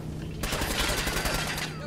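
Rapid gunfire bursts from the video game Fallout 4, with a dense fusillade of shots lasting under two seconds and a voice speaking alongside.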